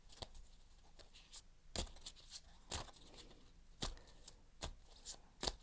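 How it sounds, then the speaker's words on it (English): Playing cards are shuffled close by, with sharp riffling bursts and soft slides repeating irregularly in a quiet room. "But I'm going to shuffle the cards some more."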